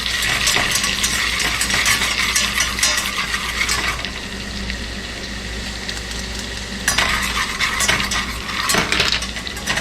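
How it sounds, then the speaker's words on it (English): Vegetables fry in a pan while a utensil stirs and scrapes against it, giving a steady close sizzle with clinking metal taps throughout. "Let that fry for about a minute."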